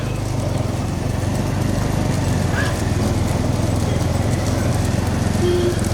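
A bullock cart race with bulls and carts running sounds as a dense, continuous rumble of hooves and wheels, loud and close throughout, with an announcer's voice over it.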